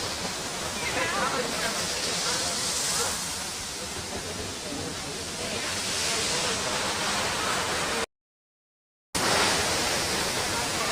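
Neturlim Waterfall in Goa roars as a steady, loud broadband rush of falling water that fills the whole stretch, briefly cut out near the end before resuming.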